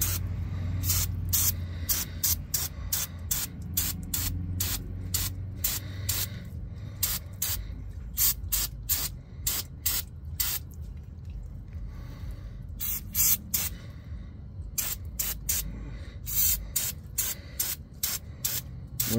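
Aerosol cleaner sprayed onto a mini bike part and bearing comes in repeated short hissing bursts, some quick and close together, others held longer, loud and close over a low background rumble.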